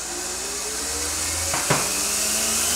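Vertical mill spindle spinning up toward 12,000 RPM while inletting a Savage Striker handgun stock, a steady whine rising gradually in pitch over a broad hiss, with a short knock near the end.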